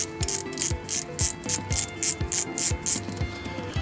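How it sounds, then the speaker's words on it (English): A ratchet clicks in a steady, even rhythm of about a dozen strokes while undoing the small bolt that holds a car's brake disc on the hub during a rotor and pad replacement; close and fairly quiet, no talking. "Last thing left to do is to undo the little bolt which holds the disc on"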